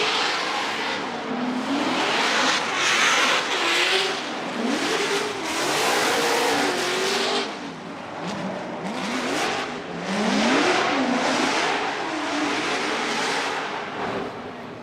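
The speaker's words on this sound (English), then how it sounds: "Let's listen to the Falcon Tires Drift Cave Corvette of Matt Field with his solo by run." Matt Field's Falcon Tires Drift Cave Corvette drift car on a solo run at a Formula Drift pro round in Long Beach, its engine revving and wailing in rising and falling sweeps, loud and continuous with no talk.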